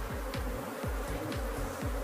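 Honeybee swarm buzzing steadily in an opened hive during a colony split, a dense continuous hum with individual bees swooping past close by, no voices.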